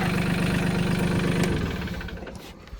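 A tractor engine idles close by with a rough, chugging rumble that gradually eases and quiets toward the end.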